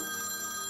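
A telephone rings with a steady bright electronic trill in a brief burst, loud and close, with no voices over it.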